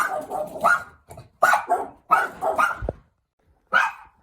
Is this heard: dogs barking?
yes